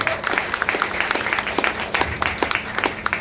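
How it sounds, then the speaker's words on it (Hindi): Audience applause at a lifestyle function event, with fairly sparse, distinct hand claps from a modest crowd in a quick irregular rhythm, steady at moderate loudness throughout. "जोरदार तालियां से"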